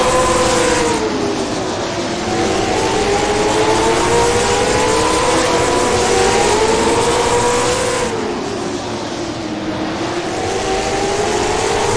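Late model race cars roaring around Jefferson Speedway, engines droning loud and continuous with pitch rising and falling as they accelerate and lift through the turns.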